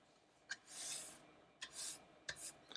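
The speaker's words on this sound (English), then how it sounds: "So it's nice to use a brush like this to clean that out." A bench brush sweeps sawdust away from a saw fence in three brisk strokes, each a close, bristly swish that starts with a light tap, separated by short pauses.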